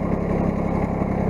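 Tractor engine running steadily at a low idle-like drone, close and continuous, with no talk over it.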